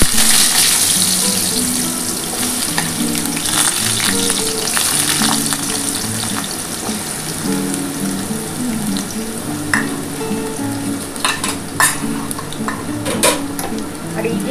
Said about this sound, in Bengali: আমার কিন্তু তেল গরম হয়ে গেছে। এবার আমি কিন্তু প্রথমে আলুটা দিয়ে দিচ্ছি।